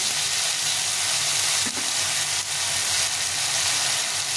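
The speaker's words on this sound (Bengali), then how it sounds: "টমেটোটা একটু ভাজা ভাজা হয়ে গেছে" Tomato frying in hot oil with dried red chilli and cumin seeds: a loud, continuous close-up sizzle with faint stirring, no voices.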